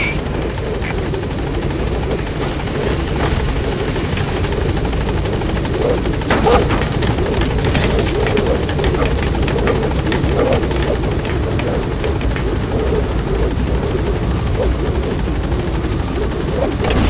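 A helicopter arrives at a landing zone in Metal Gear Solid V, its rotor drone loud, close and continuous throughout.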